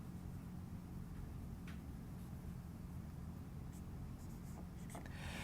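A teacher writes on a classroom board during a math lesson, with steady scratchy strokes over a constant background hiss and brief taps near the end.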